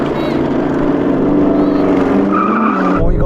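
Porsche Cayenne Turbo GT and Audi R8 launching side by side in a drag race, a loud sustained engine roar with tire noise building throughout, close and continuous without pause.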